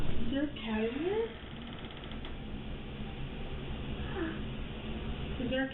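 A cat meows a few times in rising and falling cries, heard through a home baby monitor with background hiss, while people talk nearby.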